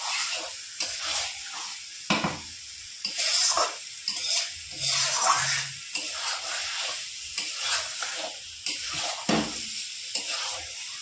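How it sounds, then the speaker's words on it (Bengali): Goat meat sautéed with spices in a pan sizzles and hisses up close, broken by repeated scraping and stirring strokes in an uneven rhythm. "মাংস দিয়ে এবার আমি ভালো করে মশলার সাথে মাংসটা কষিয়ে নেব।"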